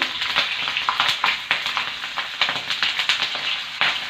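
Green chilies fry in hot oil for vada pav chutney, with a loud, steady close sizzle broken by irregular crackling pops throughout.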